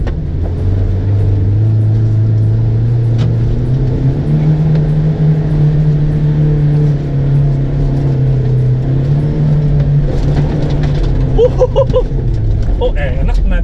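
A Mahindra Scorpio pickup with an M-Hawk 2200 engine pushes through a muddy off-road puddle, its engine note steady and loud, rising and falling with throttle, with a few splashing and clunking sounds near the end.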